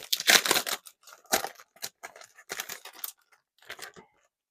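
Scissors snip and tear through the plastic packaging of a mini discbound planner, a run of sharp crinkly cuts in close bursts with short pauses between them.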